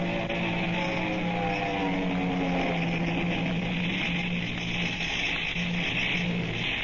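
A car engine drives off as a sound effect in an old-time radio drama, a steady, loud, rumbling motor drone with a gently wavering pitch that runs without a break.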